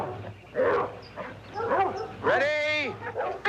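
A pack of dogs barks and yips close by in a 1960s television drama, with bursts of excited barking and a longer howling bark near the end, overlapping a voice.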